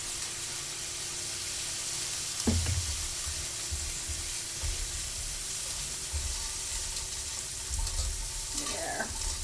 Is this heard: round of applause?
no